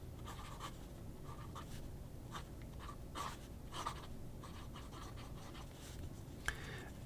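An 18 karat gold fountain pen nib scratches across paper in short, irregular strokes, faint and close, with quiet gaps between the strokes and no talking.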